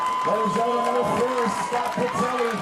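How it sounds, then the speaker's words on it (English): Football crowd at a high school playoff game cheering wildly, a roar of voices and whoops under a commentator's rhythmic talk throughout. "the crowd is going wild"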